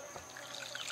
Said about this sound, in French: On va mettre un peu d'eau.